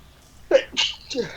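A single sharp human sneeze bursts out close by during a casual tabletop role-playing game session, a brief inhale leading into the explosive burst.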